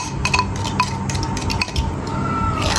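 Curd being stirred into milk inside a clay matka, with scraping, clinking strokes of a utensil against the pot, fairly close and steady with no speech.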